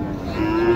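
A Sahiwal cow or bull at a busy cattle market gives a single loud, close, sustained moo.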